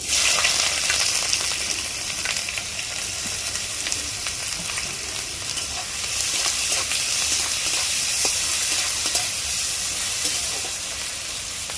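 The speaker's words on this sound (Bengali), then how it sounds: "এবারে আমি পেঁয়াজটা ভেজে নেব" Onions frying in oil for a cauliflower korma, a steady loud sizzle with crackling pops running throughout, close and continuous with no talk.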